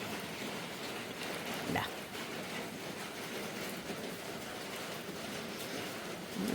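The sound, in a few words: heavy rain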